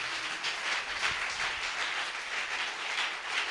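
A church congregation applauds the Lord together, a steady, dense wash of clapping that holds at an even level throughout, with no voices rising above it.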